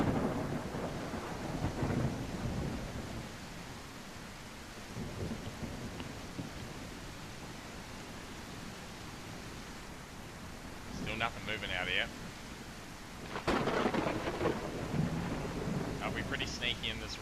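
Heavy rain in a video game hisses steadily throughout with a low rumble beneath, while someone speaks briefly over the downpour.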